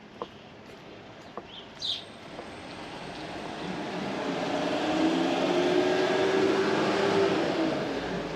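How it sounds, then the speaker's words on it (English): A noisy lorry drives past on a street in Paphos old town, its engine drone building from faint to loud over several seconds and staying close, with a few brief knocks and faint bird calls early on. "Nice and noisy lorry."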